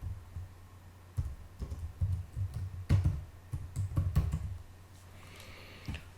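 Keys clatter in quick, uneven bursts of typing on a computer keyboard in the Canva design tool, close by with a low hum underneath.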